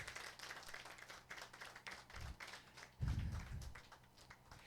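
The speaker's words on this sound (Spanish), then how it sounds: "denle un aplauso al Señor" Church congregation clapping in applause for the Lord during a Spanish-language Christian sermon, a moderate patter of hands that swells after the third second, with no talk over it.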